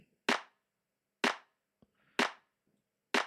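Layered clap samples in a music production track, one weighted toward crisp high end, hit in a steady rhythm of four sharp, loud claps spaced about a second apart, alone with a faint tick between them.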